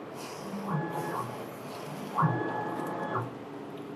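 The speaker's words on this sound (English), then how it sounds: "we press X home and test vertical calibration print" A printer runs a vertical print head calibration test print, giving two soft whirring passes of the carriage with a faint tonal hum, quiet and close, with no voices.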